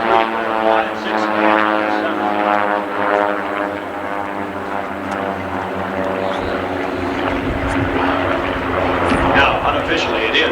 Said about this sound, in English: As they bank the airplanes towards 90 degrees of bank.